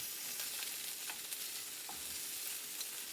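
Shrimp cooking in a hot pan, a constant bright sizzle with a few soft stirring clicks, close and even throughout with no voices.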